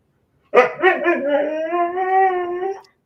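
A dog lets out a drawn-out, wavering howl with a few short yelps at the start, close and clear, lasting a couple of seconds alone.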